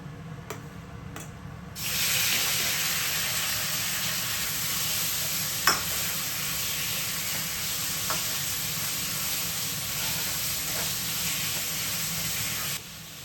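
Green peppers and garlic hit a hot pan and break into a loud, steady sizzle that holds for about eleven seconds, with a few clicks and scrapes from stirring before it cuts off.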